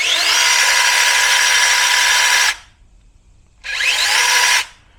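A TROOZY mini 6-inch battery-powered chainsaw runs at a steady high whine for about two and a half seconds, stops, then revs again briefly, loud and close with no talk.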